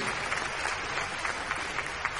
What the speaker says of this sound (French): Applaudissons bien fort la chorale des Dunley